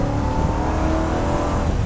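A Ford Crown Victoria Police Interceptor V8 accelerates hard, its engine a loud, steady, droning roar heard from inside the car.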